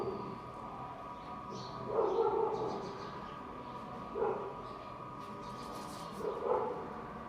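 Puppies let out three short, soft whimpering yips spaced a couple of seconds apart, fairly faint over a low steady background.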